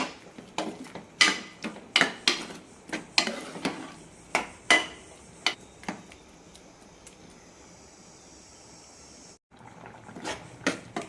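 A spoon stirs a pot of snake gourd koottu curry after grated coconut goes in, giving a quick run of sharp clinks and knocks against the pot, then a short pause before a few more taps.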